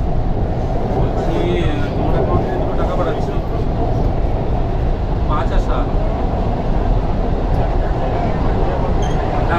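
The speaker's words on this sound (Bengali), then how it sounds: "আমাদের ট্রেন ফার্স্ট ছেড়ে দিল" A Kolkata Metro train running through the tunnel under the Ganga (Hooghly) river, with a loud, continuous low rumble and rolling wheel noise throughout and faint higher rattles above it.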